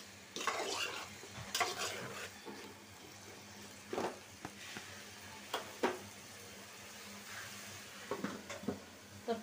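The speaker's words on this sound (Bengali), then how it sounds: "সব মিলাই আমি একসাথে কষায় নেব।" Fish curry with tengra fish, potatoes, tomatoes and eggplant is stirred and sautéed in a pan, with a steady low sizzle broken by scraping spoon strokes and clinks against the pan, close and moderately loud.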